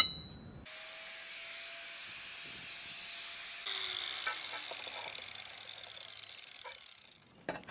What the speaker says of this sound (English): Continue cutting and shaping the tile with a baby grinder until there are no gaps underneath the tiles caused by the brackets